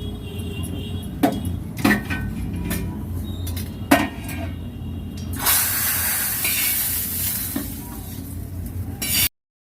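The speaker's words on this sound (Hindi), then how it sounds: "लगा दिया है दाल में तड़का" A tempering for onion dal is fried in a home kitchen. Sharp clinks of a spoon against the pan come first, then a broad, steady sizzle swells in the second half before cutting off.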